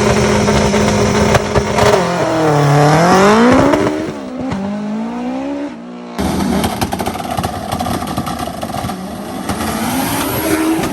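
An AWD turbocharged B-Series car races on a street, its engine loud and close, revving up and down through sweeping pitch changes before a brief drop, then roaring again with dense, harsh exhaust noise.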